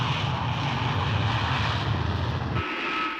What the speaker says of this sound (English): The Russian Konkordsky, on show at the Paris Air Show, was the main challenger to the Anglo-French Concorde.